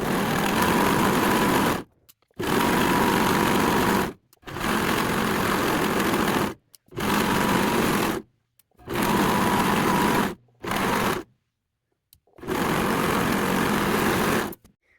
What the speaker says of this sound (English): I'm gonna get all of that serged together, just so that it is easier as I start piecing everything together